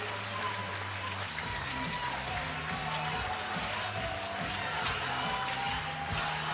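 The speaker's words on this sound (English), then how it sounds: "Round of applause now." Crowd applause in an arena during a 3x3 basketball game at an Olympic qualifying tournament, continuous mid-distance clapping and crowd noise with a low steady hum and a commentator talking over it.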